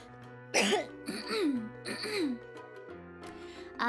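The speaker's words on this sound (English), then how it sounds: "Let me clear my throat." A person clears their throat several times in rough, rasping bursts close to the microphone, with a low hum underneath.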